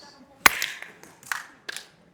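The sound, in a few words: audience giving a single clap for Henrique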